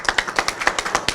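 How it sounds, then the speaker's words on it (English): Crowd clapping at a formal government ceremony, a quick run of regular, crisp claps that sound close and fairly loud, with no one speaking. "The Vice President deserves a round of applause."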